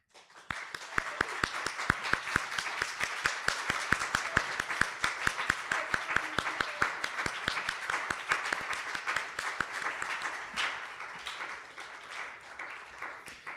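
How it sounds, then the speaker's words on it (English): A church congregation at a youth Sunday service breaks into sustained applause, dense rhythmic clapping from many people in a reverberant hall that holds steady and then tapers toward the end. "Everybody, please join me in offering them a round of applause."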